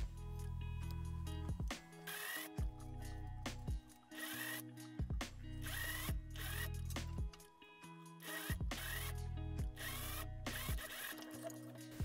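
A sewing machine stitches a seam on a silk organza dress, running in short repeated bursts of rapid mechanical clatter separated by brief pauses, close and fairly quiet.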